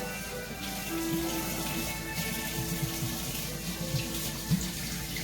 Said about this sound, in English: warm water, and away we go. Rinse this off.